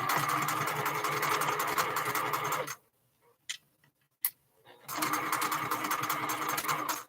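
A sewing machine rattles in fast, steady bursts while stitching quilted bear pattern pieces, running for a few seconds, pausing with a couple of faint clicks, then starting up again close by.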